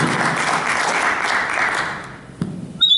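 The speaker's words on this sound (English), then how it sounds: "Please give a big round of applause." An audience gives a round of applause in a studio, a full, steady wash of clapping that fades out after about two seconds, followed by a thud and a few faint clicks.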